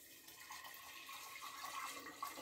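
Hot water, around 70-80 degrees, poured into a three-litre glass jar for homemade yeast-free kvass, a faint continuous trickle and splash for a couple of seconds.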